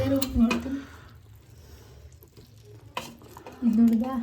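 Ground masala stirred into cooking mutton keema in a pot, with clattering stirring and a hissing fry at the start and end and a quieter stretch in between.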